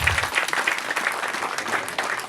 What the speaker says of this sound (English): let's clap for the men and women in uniform.